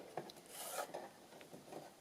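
Paper is trimmed for an accordion journal pocket, giving quiet, close scraping and rasping cuts in several short strokes with brief pauses between.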